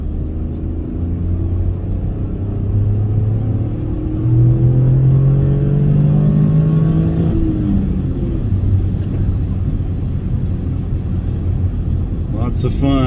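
A Toyota GR Corolla's turbo engine accelerates in cold weather, heard as a steady loud drone from inside the car. Its pitch climbs through the gears before settling into a smoother cruise.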